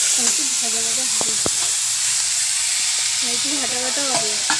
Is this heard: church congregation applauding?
no